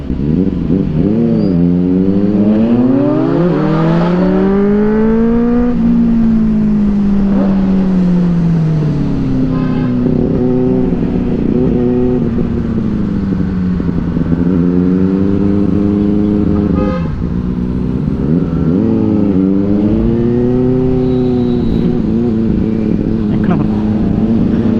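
A Kawasaki Z900 with stock exhaust accelerating on a night ride, its engine rising and falling through several revving pulls and gear changes, loud and close, with a rider's voice talking over it and a short horn toot.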